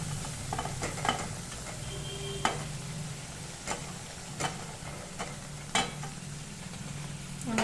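Paneer cubes fry in masala for a Maharashtrian paneer curry. A soft, steady sizzle is broken by several sharp spoon clicks and stirring scrapes against the pan, with no talking.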